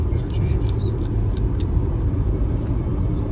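Audi Q8 SUV driving on the road, a steady low cabin rumble of engine and tire noise heard from inside, smooth and continuous, with a voice talking faintly over it.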